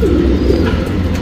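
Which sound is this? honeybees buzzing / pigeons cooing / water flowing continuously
pigeons cooing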